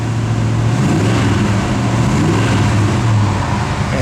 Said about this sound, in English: Give a little rev there